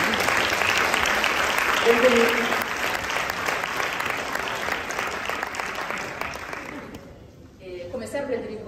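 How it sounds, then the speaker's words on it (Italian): Audience applause welcoming a film director and producer at a Q&A during the Bergamo Film Meeting, steady and fairly loud for about seven seconds, then fading as a voice speaks. "Un applauso."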